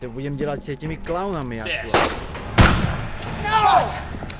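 Gunshots from Arma 2 in a Harvest Red campaign cutscene, where goons shoot a downed man in the head: a sharp loud crack near the middle, with voices talking before and after it.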